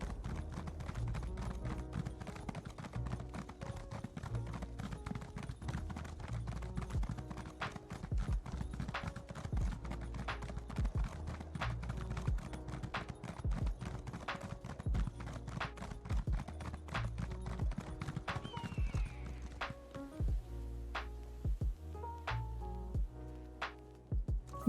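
Horse galloping in The Elder Scrolls Online, a fast, steady, continuous clip-clop of hooves running close by against a soft layer of background music, with no talk.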